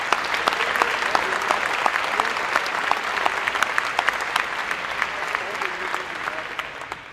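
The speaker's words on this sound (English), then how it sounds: "help me in saying thank you to our coaches with a round of applause" An audience at a high school athletic recognition night claps steadily for coaches, a continuous even round of applause that stays fairly loud and close before easing off slightly at the end.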